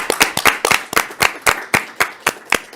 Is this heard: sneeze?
no